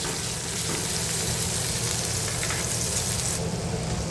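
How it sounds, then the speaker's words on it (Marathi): Tomato being sautéed with onion in a pan while bhendi bhaji is made: a steady, dense sizzle and crackle of frying that carries on unbroken, close and fairly loud, with no talk. "आता याच्यामध्ये आपल्याला टोमॅटो घालायचा आहे। टोमॅटो घातल्याच्या नंतर तेही सगळं परतून घ्यायचं।"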